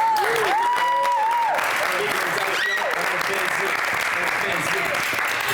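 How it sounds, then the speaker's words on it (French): Broadband clapping from a crowd fills the clip steadily, with a voice or tone audible briefly near the start. "Moi, j'applaudis ça."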